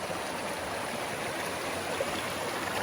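A clear mountain river on Mt Wellington rushes steadily over rocks, a close, continuous broadband wash of flowing water with no voices.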